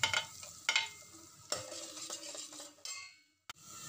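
Chopped onions and small green chilies fry in a pan, crackling and sizzling as a utensil stirs and scrapes, with several sharp clinks against the metal and the sizzle fading toward the end.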